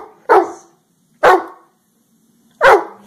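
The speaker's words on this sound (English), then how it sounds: "Barking contest." Three separate loud dog barks ring out at spaced intervals, each a short sharp bark with a quick decay, in a barking contest with no talking in between.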